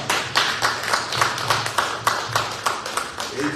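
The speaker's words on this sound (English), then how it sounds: "let's give Gerald a round of applause" A small audience gives Gerald a round of applause during a morning show, with steady, fairly close rhythmic hand claps that run the whole stretch.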